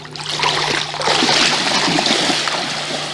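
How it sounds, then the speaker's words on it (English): A dinghy is dragged through shallow water as the tide drops, making a steady sloshing, splashing and scraping wash for about three seconds. No voices are heard. "There's barely enough water to drag the dinghy through."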